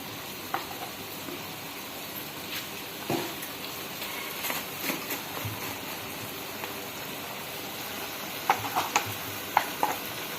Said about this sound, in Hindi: और कीमे को अच्छी तरह भून लें।